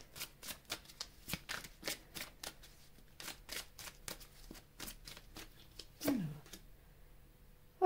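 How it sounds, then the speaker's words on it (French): Tarot cards are shuffled close by in quiet, rapid riffles and soft slaps, a run of crisp card flicks. "C'est ce qu'on va voir avec le tirage."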